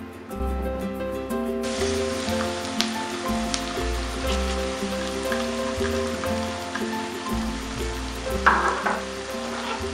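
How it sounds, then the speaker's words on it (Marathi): Finely chopped onion hits hot oil with a sudden broad sizzle that starts about a second and a half in and keeps crackling steadily, close and fairly loud, over a low rhythmic background hum, with a brief brighter burst near the end. "आता यामध्ये आपला जो बारीक चिरलेला कांदा आहे तो टाकून घेऊया"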